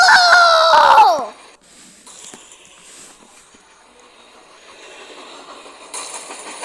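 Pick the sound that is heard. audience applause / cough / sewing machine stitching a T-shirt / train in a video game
train in a video game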